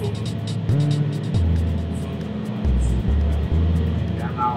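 An Epiroc underground mining machine drives along a tunnel wall, its engine droning and shifting pitch in several steps, heard close with people talking briefly over it.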